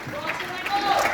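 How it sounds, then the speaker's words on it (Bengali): Applause from an audience at a film's cast and crew promotional event, scattered clapping mixed with crowd voices and chatter. "একটা জোরে হাততালি তাদের জন্য"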